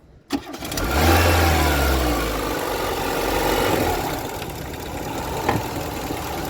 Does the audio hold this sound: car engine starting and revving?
yes